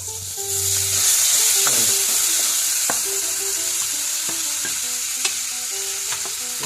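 Ground spice powders fry in a hot pan for a lablab bean and prawn dish, giving a loud, continuous close sizzle. Repeated sharp scrapes and clinks of a spoon stirring against the pan cut through it.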